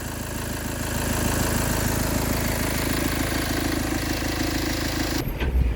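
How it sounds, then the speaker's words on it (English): A van engine idles steadily with a low, even rumble, loud and close, cutting off abruptly near the end. "the van we had turning over, idling, plus doing the rev testing."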